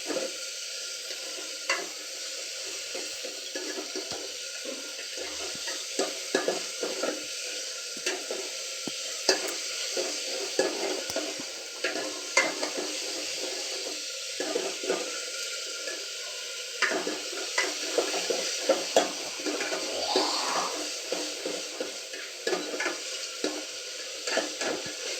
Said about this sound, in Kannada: ಚೆನ್ನಾಗಿ ಫ್ರೈ ಮಾಡಬೇಕು. ಒಂದು 5 to 10 minutes ಫ್ರೈ ಮಾಡಾದಮೇಲೆ